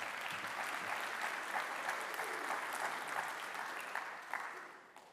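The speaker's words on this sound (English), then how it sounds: "Thank you for this warm welcome with applause" Audience applause at a Worldchefs General Assembly session, a steady wash of many hands clapping at moderate distance, holding even for about five seconds before tapering off at the end.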